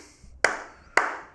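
Two sharp, separate hand claps about half a second apart ring out in a quiet room, each with a short reverberant tail.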